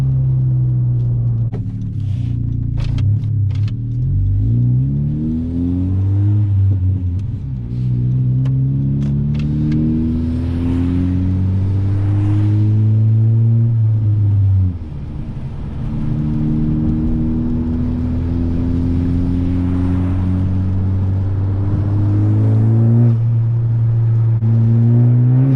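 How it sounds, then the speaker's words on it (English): A 10th-gen Honda Civic Si with a MAPerformance race exhaust and single resonator accelerates through city streets, its engine droning up through several gear shifts. The tone is loud and close inside the car, rising and dropping between shifts. "the MAPerformance race exhaust comes with one resonator, so it's not like full max blown loud, but gives it a nice little tone"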